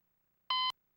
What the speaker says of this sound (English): But yes, that is the Half-Life sound effect